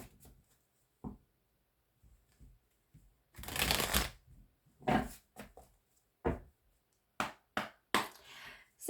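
Oracle cards being shuffled by hand, a long riffling rush in the middle followed by a run of sharp slaps and taps as the deck is cut and laid down, close and clear with no talking.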